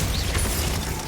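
A Glacius freezing spell cast in Hogwarts Legacy during a fight, a short crackling, ratcheting burst with a soft pop, close and fairly loud, with no talking.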